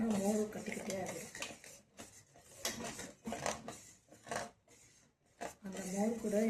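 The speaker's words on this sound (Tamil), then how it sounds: "கை எடுக்காமல் கலக்கி விட்டுட்டே இருங்க, இல்லைன்னா மோர் கட்டிக்கிட்டே ஆகிடும்" A spoon stirs buttermilk mixed with ginger-garlic paste in a cooking pot for a cucumber buttermilk curry, giving repeated light scrapes and metallic clinks. A voice talks over the start and end.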